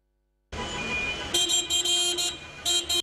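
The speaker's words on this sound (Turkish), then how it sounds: "Onlarca araçlı konvoy yaptılar, korna çaldılar." Car horns honking repeatedly in a protest convoy of service-shuttle drivers in Istanbul, layered short and long toots over steady road traffic, fairly close and loud.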